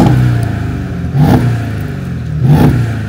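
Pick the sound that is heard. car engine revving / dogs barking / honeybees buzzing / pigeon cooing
car engine revving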